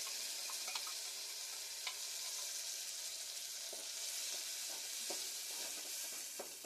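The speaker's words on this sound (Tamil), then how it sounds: "தேங்காவை இதுல போடுறோம். நல்லா ஒரு கிண்டிட்டு" Grated coconut stirred into snake gourd kootu in a pan: a continuous soft sizzle with light scraping strokes and small taps from the spoon, close and fairly quiet, no voices.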